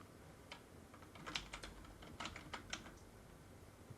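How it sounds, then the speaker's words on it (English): Quick bursts of keystrokes on a computer keyboard, typing a short word into an online office account form, faint and close with brief pauses between clusters of taps. "So I'm going to type in deployment."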